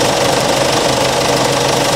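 A car engine held at about 2,500 RPM during an alternator charging test with a battery analyzer, a loud, dense, steady roar with a knocking mechanical texture and no pauses.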